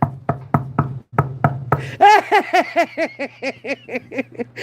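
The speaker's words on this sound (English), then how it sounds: "You better knock on something." Someone knocks on a hard surface for luck: about half a dozen crisp, loud raps in quick succession, then a voice takes over with a run of rhythmic, pulsing sounds.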